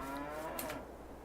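Cattle in the Farming Simulator 22 video game give a soft, faint moo, a single drawn-out low call heard alone against quiet farm ambience.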